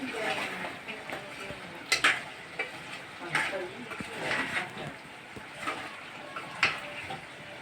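Chicken cooking in a pan gives a steady, moderate sizzle broken by irregular scrapes and knocks of stirring, while someone talks over it.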